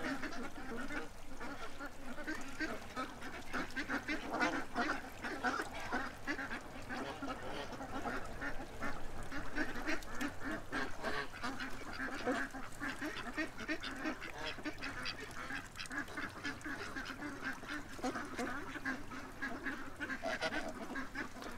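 A flock of ducks quacks steadily and densely, a continuous overlapping chatter of calls, close and busy, with faint goose-like honks mixed in and no voices.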